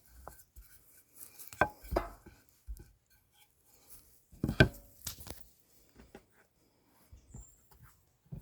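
Tomatoes being sliced with a knife outdoors: a handful of sharp, close cuts and taps against a board at irregular intervals, separated by quiet gaps.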